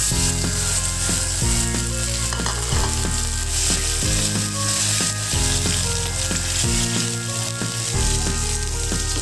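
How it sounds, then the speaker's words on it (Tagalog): Pork liver pan fries with a loud, continuous sizzle and crackle, while regular rhythmic thumps and tonal clanks recur about every second and a half throughout. "i-pan fry muna natin itong pork liver"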